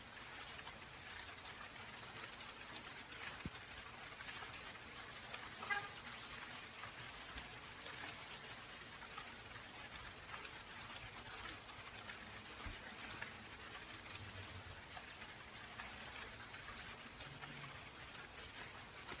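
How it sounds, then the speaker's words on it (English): Steady rain falls outdoors, a soft, even hiss of drops, fairly faint and continuous, with a few brief louder pattering spots and no voices. "Just listen to the sound of the rain."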